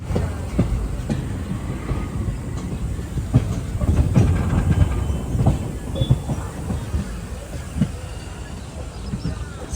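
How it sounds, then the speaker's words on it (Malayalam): The Silchar to Agartala Express approaches Badarpur Junction with a steady rolling rumble of wheels and carriages, soft rhythmic clacks over rail joints, and a faint hiss throughout, heard from on board. "ട്രെയിൻ ഇപ്പോൾ ബദർപൂർ സ്റ്റേഷനിലേക്ക് അടുത്തുകൊണ്ടിരിക്കുകയാണ്."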